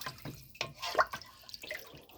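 Water splashing and dripping into a pot in short, uneven bursts, fairly close and moderately quiet.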